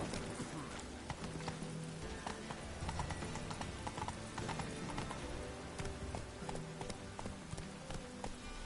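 Hooves clatter in a quick, continuous galloping rhythm as a horse runs in The Witcher 3, with a faint whinny and a voice speaking over it.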